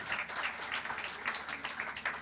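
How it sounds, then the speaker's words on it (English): An audience applauding the winners at a women's driving event, a brief burst of scattered hand claps heard a little way off, with no talking. "A round of applause to our winners."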